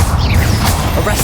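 Confringo explosion spell cast in the video game Hogwarts Legacy, a loud, dense burst of crashing, booming impact noise with whooshing bursts throughout, sustained and close.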